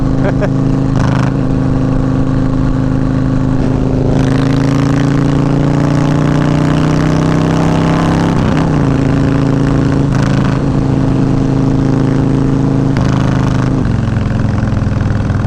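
Yamaha Warrior 1700 V-twin motorcycle engine running steadily throughout while riding, a loud continuous drone with its pitch rising and falling a couple of times as the throttle changes, with speech-like sounds over it.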